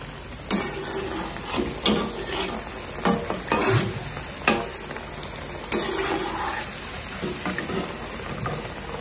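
Gram flour cutlets fry in a pan with oil, giving a steady low sizzle broken by repeated sharp clinks and scrapes of a utensil being turned and moved through the nine seconds, with no talking.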